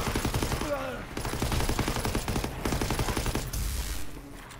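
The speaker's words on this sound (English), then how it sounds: "we both gotta shoot at it. We have to shoot at the Zeppelin." Rapid gunfire aimed at a Zeppelin in Call of Duty: WWII Nazi Zombies, dense bursts of shots over game sounds, with voices talking faintly underneath.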